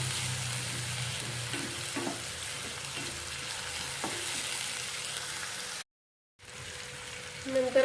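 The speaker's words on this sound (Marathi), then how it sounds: "टोमॅटो पण चांगला परतून घ्यायचा आहे।" Tomatoes with browned onions frying in a pan for Marathi-style dal tadka, a steady close sizzle throughout that drops out briefly near the end, with faint stirring clinks.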